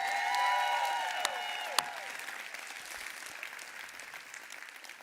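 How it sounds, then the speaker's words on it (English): A conference audience applauds after a speaker is introduced, clapping that rises briefly then fades and thins out, with a sharp tone and a few louder isolated claps over a decaying background. "Give Ray Higdon a huge round of applause."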